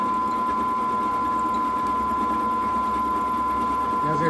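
Milling machine making a surfacing pass across a Kohler cylinder head, a loud, steady, continuous whine with a constant hum and no breaks, and what may be a voice under the machine.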